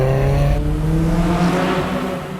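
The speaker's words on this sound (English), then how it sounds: "Most people have no idea how an engine like that comes in a Civic could sound this amazing" Honda Civic engine fitted in a classic Mini, revving hard and loud and close for the whole stretch, a steady high rev with rising and falling harmonic tones, no talk.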